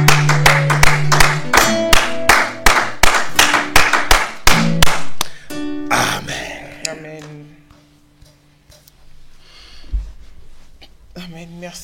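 A church worship congregation claps in unison with a fast, regular beat for about six seconds, loud and close. The clapping then fades into scattered claps and murmuring, and voices are heard throughout.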